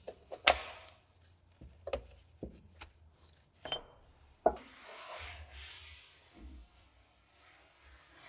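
Gasket removal and cleaning on an Audi S-Tronic seven-speed automatic gearbox oil pan: sharp metallic clicks and knocks, then scraping and rubbing, close up and moderately loud, with no speech.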